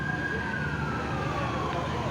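Fire brigade and ambulance sirens responding at an LRT accident scene in Kampung Baru, Kuala Lumpur, one steady wailing tone sliding slowly downward, continuous and fairly loud over dense background noise.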